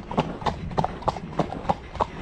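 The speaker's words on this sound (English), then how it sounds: "Oh, there's another horse there." A ridden horse's hooves clip-clop in a steady, even rhythm, seven clear, close hoof strikes spaced about a third of a second apart, with no talk over them.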